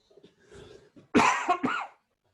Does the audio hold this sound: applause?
no